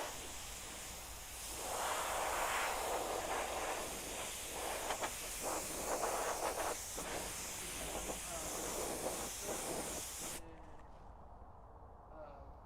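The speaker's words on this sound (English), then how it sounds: "And we're gonna grab some canned air." Canned air sprayed outdoors, a loud continuous hiss in long bursts lasting about nine seconds before cutting off abruptly, with faint talking afterward.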